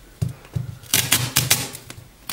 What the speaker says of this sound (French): Alors avec ça on va prendre donc du gros scotch.